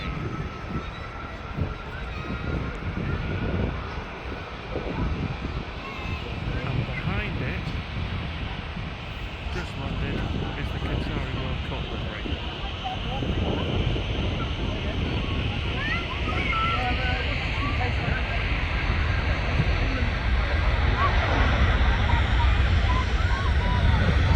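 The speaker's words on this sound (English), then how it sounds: "Its takeoff roll, Virgin A330 to JFK." A Virgin Atlantic Airbus A330 on its takeoff roll at Manchester Airport, bound for JFK, its engine roar swelling steadily from a distant rumble to a loud, broad drone.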